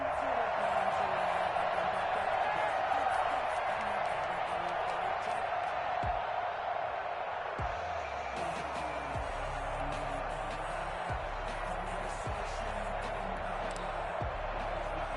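Football stadium crowd roars steadily throughout, a dense, loud wash of cheering with occasional low thuds, and no clear single voice standing out.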